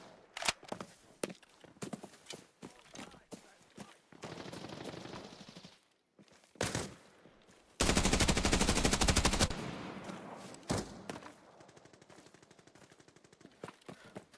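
Automatic rifle fire in a first-person shooter game comes in a series of sharp bursts, with scattered single shots at the start and one long, loud sustained volley in the middle. Softer bursts and footstep-like taps follow, and no one speaks.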